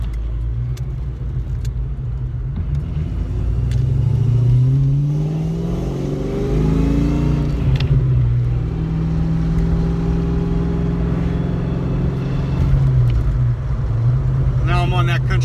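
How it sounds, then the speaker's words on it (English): A 1991 Ford Mustang GT V8 with a Flowmaster exhaust drones steadily from inside the car while driving on a country road, the engine note rising and falling with throttle, loud and continuous throughout. "the exhaust is a Flowmaster exhaust"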